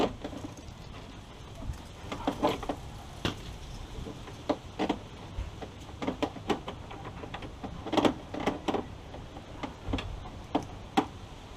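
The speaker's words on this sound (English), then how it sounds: "using the rivet gun, you can actually guide it in there." A rivet gun fastens fender flares onto a vehicle, giving a series of sharp clicking snaps at an irregular pace over a faint background hiss, with no voices.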